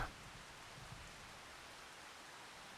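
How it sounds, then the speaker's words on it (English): Faint, steady rain hisses evenly throughout in Farming Simulator 25, a soft continuous patter with no voices. "Although now it's raining."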